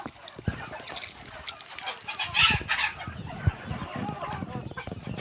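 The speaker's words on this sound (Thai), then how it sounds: "ไก่ต่อบ้านเราครับผม" Decoy fighting roosters kept at a Thai home cluck and crow nearby, with a loud crow in the middle and scattered clucks and thumps around it, while someone speaks intermittently.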